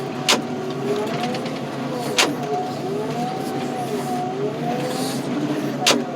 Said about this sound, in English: So we have to crush our top car first.